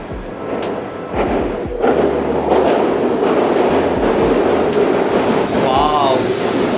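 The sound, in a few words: Shinkansen bullet train at platform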